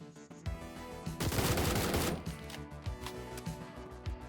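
Gunfire from Door Kickers: Action Squad comes in rapid bursts of sharp shots, densest in the middle, layered over an upbeat music track.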